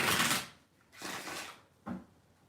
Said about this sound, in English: I gotta do a quick shuffle,